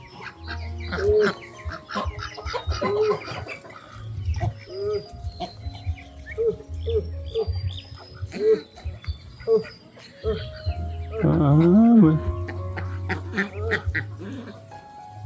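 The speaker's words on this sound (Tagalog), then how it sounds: "May nahalong itik ka, Tekram" Ducks mixed in with farm chickens cluck and quack close by in a Filipino yard, with repeated short calls and a louder burst of squawking near the end while people talk over the flock.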